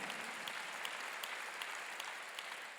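A church congregation applauds at a graduation service, with steady, dense clapping from many hands throughout. The clapping sounds moderately distant and even, with a few sharper claps standing out.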